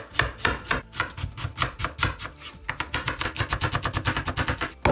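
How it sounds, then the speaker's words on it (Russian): A knife slices an onion into thin half rings on a cutting board, producing rapid, close, rhythmic chops that speed into a steady even series, heard alone without talk. "Теперь нарежем лучок. Режем полукольцами потоньше."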